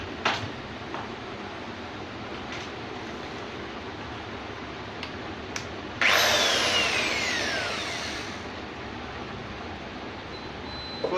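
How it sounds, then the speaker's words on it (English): Power drill boring a hole into a wall to mount a TP-Link router, a sudden loud burst of whirring that starts a few seconds in and gradually winds down, following a quieter stretch with light clicks. "Then we take a drill machine."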